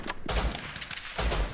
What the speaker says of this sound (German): Ich glaube, ich habe da Schuss gehört.